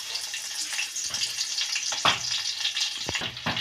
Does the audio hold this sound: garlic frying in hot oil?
yes